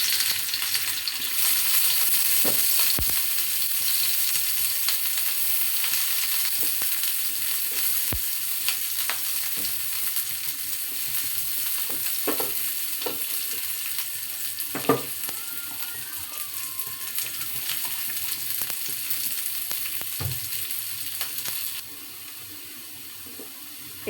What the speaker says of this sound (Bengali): পেঁয়াজটা আমার লাল লাল করে ভাজা হয়ে গেছে